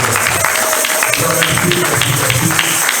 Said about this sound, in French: Nous voulons applaudir pour la gloire de Dieu à travers la vie de Jésus.